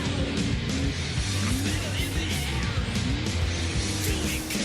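Cars in the Ford Racing 2 video game slide and skid during an off-road race, a continuous loud engine drone with scraping tire noise throughout, with faint talk underneath.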